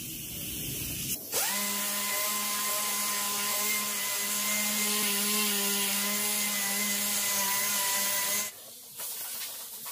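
Polyester body filler is sanded with a power sander, producing a steady, close, humming whine with a clear pitched tone that holds for about seven seconds before stopping abruptly, with no talking.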